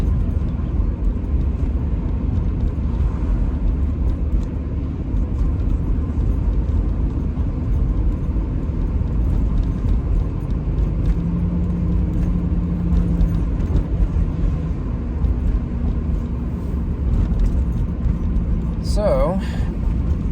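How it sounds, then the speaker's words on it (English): A Pontiac Trans Am cruises on its first ride of the year, its engine a steady, loud rumble that holds evenly throughout, with no voices over it. "Seems like a good idea to start off my first ride of the year with this Trans Am. And just take a nice little cruise."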